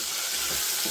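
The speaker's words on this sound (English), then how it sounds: "Me, I normally cook my onions with salt." Onions frying with salt in a cooking pot for a lentil stew give a steady, close sizzle lasting about a second, with no voices.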